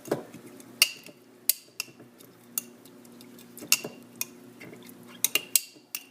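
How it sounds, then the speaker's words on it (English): A spoon clinks and scrapes against a glass jar in irregular sharp taps while stirring and crushing red cabbage leaves in water, close up, with brief pauses between strikes and no talking. "And I'm stirring and crushing the leaves."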